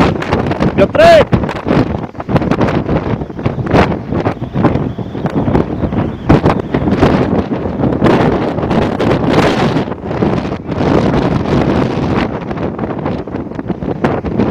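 Strong, gusty wind at the ruins in Le Caylar, France, roars and buffets the microphone continuously and loudly for the whole stretch, with no letup between gusts.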